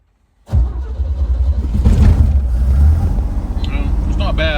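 After a brief silence a six-cylinder car engine, not fully warmed up, catches and settles into a loud, rough idle, then the pitch rises as it revs, with a whining tone near the end.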